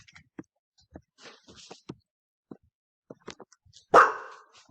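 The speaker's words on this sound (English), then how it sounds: "Oh my gosh, my dog keeps on barking." A dog barks once, loud and close, near the end, after a stretch of faint scattered clicks and small noises.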